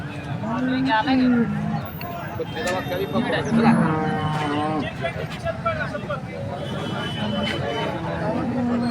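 Jersey cattle and a calf moo several times, low drawn-out calls close by, mixed with people talking and general commotion at a livestock market in Vadgaon, Kolhapur.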